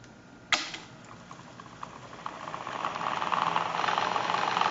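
Teac Tascam tape deck shifting into fast forward: a sharp mechanical clunk, then a whirring tape rush with faint rhythmic ticking that builds steadily louder.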